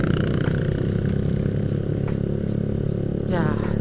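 A motorcycle fitted with a cheap custom racing exhaust runs with a steady, rough low drone throughout, rising briefly near the end like a rev, close and fairly loud.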